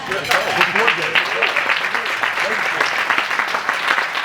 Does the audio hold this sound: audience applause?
yes